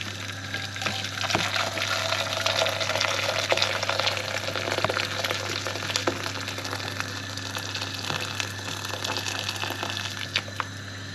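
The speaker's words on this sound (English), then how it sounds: "So some boiling water for the spaghetti." Boiling water poured into a pan for spaghetti: a steady, fairly faint rushing splash that lasts throughout, over a low constant hum, with no voices.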